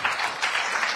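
Crowd applause at the NSMQ televised quiz competition, a steady dense clapping that holds at an even level for the full second with no voices on top.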